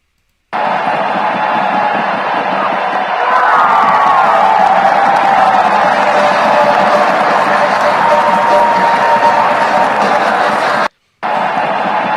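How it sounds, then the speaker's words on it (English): A baseball stadium crowd roars and screams, a loud, sustained wall of cheering with whoops rising through it, cut off briefly near the end. "crowd noise is phenomenal right there. The crowd is totally into that game. They are screaming their heads off."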